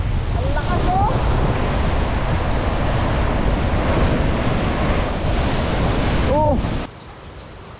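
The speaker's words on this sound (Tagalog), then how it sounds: "Ayan po ang lagay ng dagat ngayon. Ang lakas oh." Strong sea waves crash amid gusting wind that buffets the microphone, a loud, continuous roar lasting about seven seconds before easing, with a person briefly exclaiming over it.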